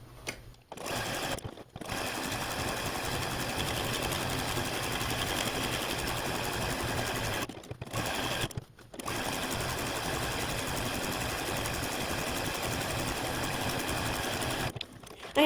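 A sewing machine runs a stay stitch around the scarf piece of a snowman quilt, its steady mechanical whir continuing for long stretches and broken by a few short pauses.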